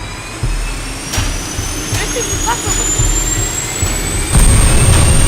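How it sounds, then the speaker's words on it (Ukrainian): A jet turbine spools up in the People Playground game, with a steady rising whine and a broadband roar that grows louder toward the end as low engine rumble builds. "Так, зараз ще запускаємо турбіну"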